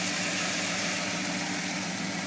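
A Ford F100 truck engine runs steadily on fuel vapor, a close, even, continuous idle hum and rumble with no pauses or voices.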